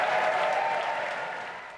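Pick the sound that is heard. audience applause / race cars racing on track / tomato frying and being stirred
audience applause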